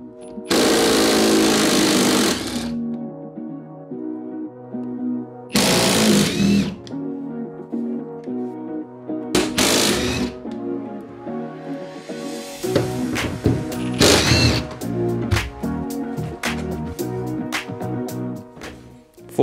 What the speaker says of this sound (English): I've already prepared it on my ratchet.